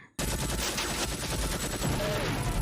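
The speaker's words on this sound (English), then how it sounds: "Jeez, that's a big gun." Heavy machine gun fire from a scene in Rambo III (1988) erupts abruptly and stays loud and dense, a sustained rattling burst with explosive booms, no talk over it.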